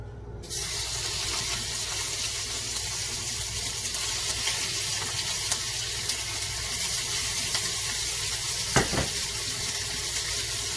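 Dehydrated beef fries in hot oil for a stir fry, a steady loud sizzle filling the whole stretch with one brief clatter near the end.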